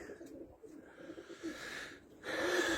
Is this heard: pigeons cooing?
yes